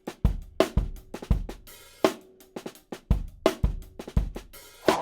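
Live drums picked up by a kick auxiliary mic and heavily compressed with a CLA-2A, giving tight, punchy kick and snare hits in a steady groove, loud and close.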